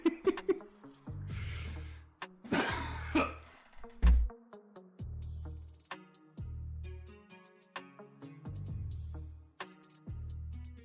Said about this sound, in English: I just coughed on the goddamn microphone.